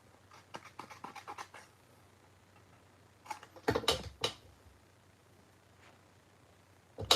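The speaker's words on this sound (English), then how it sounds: "let me trim this down with some with my little Tim Holtz scissors" Small Tim Holtz scissors trim a piece of cardstock for a paper flower, giving a series of faint, close snips and scratchy cuts in quick bursts, then a few sharper clicks after a pause.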